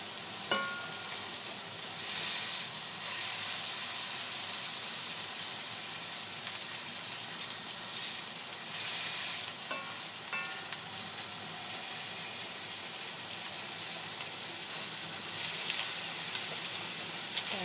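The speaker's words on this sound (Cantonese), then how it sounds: "咁另外嗰邊咧就再落香草，再煎一煎佢嘅" Silver cod fillet pan-frying with herbs in a La Rose pot, a continuous close sizzle and hiss of hot oil with occasional scraping touches of a utensil, steady and moderately loud.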